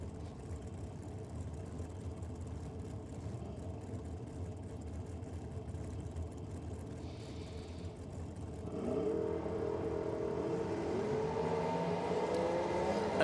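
Drag racing cars, one with a 615 cubic inch big block Chevrolet and one with a small block Chevrolet, rumble steadily at a nitro drag meet, and the engine roar swells louder about two-thirds of the way through.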